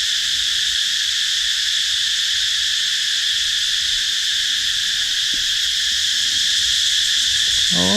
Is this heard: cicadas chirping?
yes